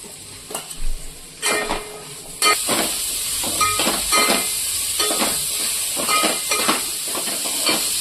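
Chopped onions dropped into hot oil in a pan for a gongura egg curry, a loud, steady hissing sizzle that bursts in and keeps going, with scattered clinks of a utensil against the pan.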